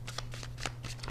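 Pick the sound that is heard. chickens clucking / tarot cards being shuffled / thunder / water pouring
tarot cards being shuffled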